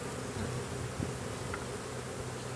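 Honey bees hum around an open hive during Demaree swarm control. The faint buzzing of many insects is steady and continuous, with no voices.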